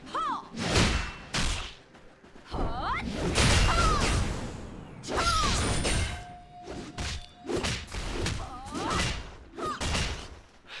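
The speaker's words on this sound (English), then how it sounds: "I'm digging my new ice spell" Ice spells being cast in the MMORPG RaiderZ, a run of whooshing swishes and thumping impacts with crystalline ringing tails, loud and close, recurring in bursts with short pauses.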